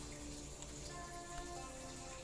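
Arrow Rain skill effect from the zombie tower defense game Last Hope TD: a dense pattering volley of arrows landing, layered over sustained tonal game music.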